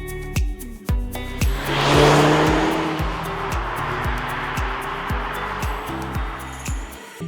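A 2003 first-generation Audi TT with a 1.8L BAM engine drives along, its engine note rising and falling through several shifts and pulls, loud and close, with a faint clinking along the way.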